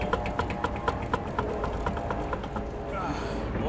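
A loose wheel rim on an Infiniti G35 coupe clunks in a rapid, steady run of knocks while the car rolls along, loud over road and engine rumble, fading near the end.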